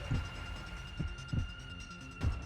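Slow heartbeat thumps in the video game The Hundred Line -Last Defense Academy-, four soft low pulses under a faint steady hum, with no talking.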